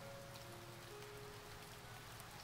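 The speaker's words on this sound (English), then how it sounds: "The rain was still falling hard," Heavy rain falls in a visual novel game scene as a steady, faint, even patter of drops on surfaces with a soft continuous hiss, no voices.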